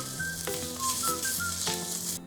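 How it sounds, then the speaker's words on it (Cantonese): Ginger slices frying in oil in a wok over medium-low heat, a close continuous crackling sizzle with faint whistling tones, heard alone without talk. "加油落鑊，開中細火，落薑片，煎大約1分鐘"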